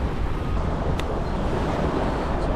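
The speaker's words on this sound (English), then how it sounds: "The wind's actually picked up quite a bit now" Strong wind buffeting the microphone on a beach, a dense, steady roar with surf mixed in, continuous and fairly loud with no voices.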